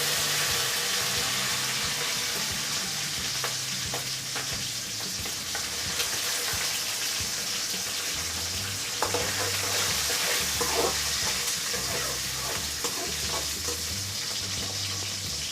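Shallots and curry leaves fry in hot oil for a Tamil fish curry, a continuous close sizzle with occasional stirring scrapes and a soft watery hiss in the background, no voices.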